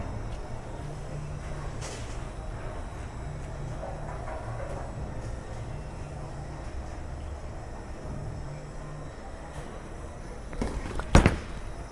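A bowling ball rumbles down a lane in a low, steady roll under alley background noise, then strikes the pins in a sharp, loud crash near the end.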